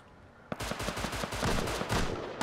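Rapid gunfire from Rust, loud and close: a sharp shot opens a run of fast, repeated bursts that keep going to the end.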